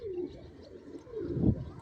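Pigeons coo close by in two soft, low, rolling calls, one near the start and a louder one near the end, with light background noise and no talk.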